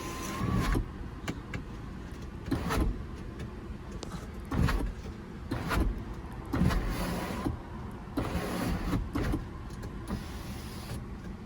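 Electric sunroof shade in a 2017 BMW X3 sDrive28i with a dual moonroof sliding along its track, close motor whirs in several short bursts inside the cabin with no talking.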